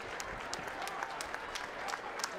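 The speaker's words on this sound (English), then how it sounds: "a round of applause for both of the fighters in this ring" Audience applause for both boxers in the ring after a ten-round championship bout, a steady wash of clapping with occasional sharper claps standing out, fairly even in level throughout.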